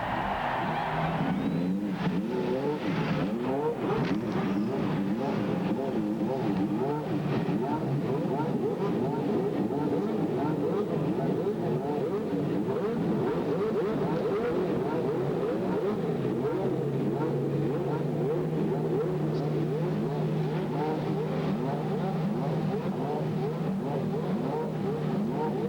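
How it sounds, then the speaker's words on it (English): Several IndyCar race engines fire up and rev together at the start of the 1996 CART US 500, a dense, sustained roar with rising and falling pitches, loud and continuous throughout. "Gentlemen, start your engines."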